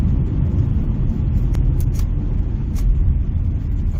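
Rover 620 car on the Santa Pod drag strip, a steady loud low engine rumble with tyre noise from heavy wheelspin, a few brief sharp transients on top, no talking.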